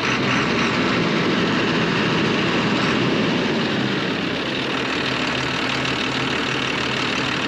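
A repaired truck engine runs at a steady, loud idle throughout, a continuous close rumble with no voices over it.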